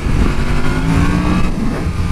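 A Yamaha FZ motorcycle engine revs up loudly and close for a wheelie, a brief sustained roar with rising pitch.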